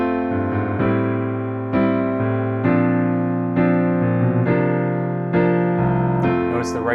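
A piano plays rhythmic chords in the right hand while the left hand adds chromatic 16th-note bass pickups leading into each new chord, with clear steady attacks roughly every second and no talking.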